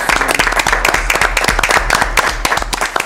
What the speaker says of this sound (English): I think we do need an applause for that.